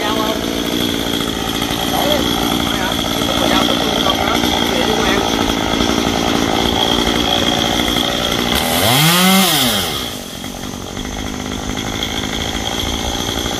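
A chainsaw drones steadily through the clip, its pitch swooping sharply as it bites into tree branches near the end, with faint voices in the background.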